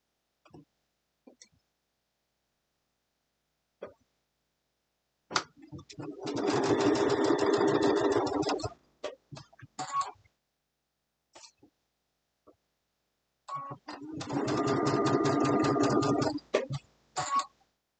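Sewing machine stitching fabric pieces cut with die strips, running in two sustained loud bursts of rapid mechanical whirring, with short clicks and pauses between them.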